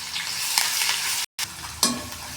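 Cumin seeds, curry leaves, green chili and garlic paste hit hot oil in a kadai for egg bhurji, a close, steady sizzle with crackling bursts, a brief gap, then renewed spattering.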